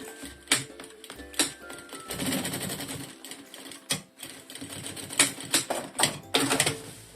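A sewing machine runs a seam along the lining edge of a small animal-themed mini backpack, stitching in short mechanical bursts broken by brief pauses, close and fairly loud.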